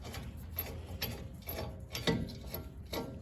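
Ratchet wrench loosening a brake caliper nut on a Toyota Hilux N70 during a front brake pad and rotor job, giving a steady run of close, soft clicking pawl ticks over a faint workshop background with no talking.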